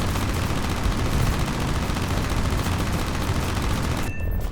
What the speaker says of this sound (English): Gunner, you know what to do with that single Breda Safat.